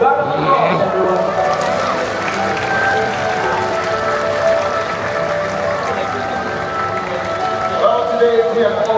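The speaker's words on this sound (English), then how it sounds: "giving them a big round of applause, everyone?" A large crowd at a bird show at Mandai Bird Paradise in Singapore applauds in a dense, continuous wash of clapping. Voices and crowd murmur mix in throughout.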